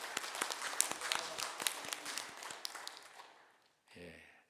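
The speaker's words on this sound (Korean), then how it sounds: "격려의 박수를 우리 성가대 모든 분들에게 해주시기 바랍니다" A church congregation claps for its choir during a Sunday worship service, a fairly quiet, uneven burst of hand claps that fades out, followed by a brief low voice.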